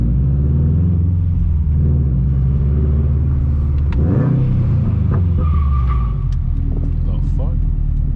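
A 2021 Subaru WRX STI with an RK titanium track exhaust and stock downpipe rumbles loudly through downtown streets, its deep idle swelling into a sharp rev midway before settling back to a steady, throaty drone.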